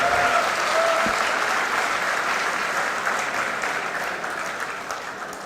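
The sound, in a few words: audience applause at a poetry gathering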